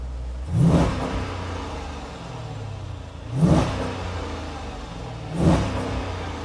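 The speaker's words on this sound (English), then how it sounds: "you can hear that it's limiting the RPM a little bit as we sit here in neutral" A 2013 Jeep Grand Cherokee SRT8 engine revs three times in neutral, each rise cut short by the rev limiter and falling back to a low idle rumble, with no one speaking.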